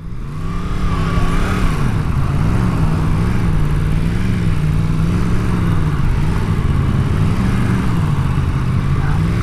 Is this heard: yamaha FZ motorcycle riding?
yes